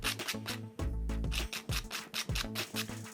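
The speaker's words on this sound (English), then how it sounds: "Just doing a quick sanding of the cut edges." Cut ends of wooden skewer dowels are sanded in quick, rhythmic rubbing strokes, close and loud, with brief gaps between passes.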